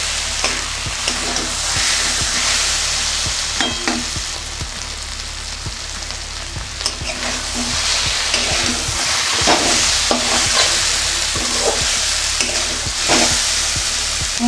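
Taro stolons (kochur loti) stir-fried in oil in a pan, a continuous close sizzle with regular scraping and tapping strokes of a spatula against the metal, steady throughout with no speech.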